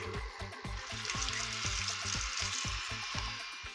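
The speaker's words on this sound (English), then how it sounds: "I'm gonna add this whisk, and we're gonna beat it until the butter and the peanut butter are well combined" A whisk beats butter and peanut butter together in a bowl for a cake batter, making quiet, steady rhythmic strokes and scrapes repeated several times a second with no voices.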